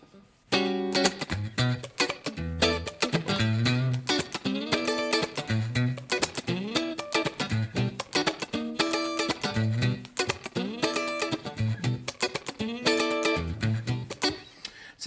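An instrument played through a short reverb effect during a gear demonstration, rhythmic phrases of bright sustained notes with punchy attacks, loud and continuous over about fifteen seconds.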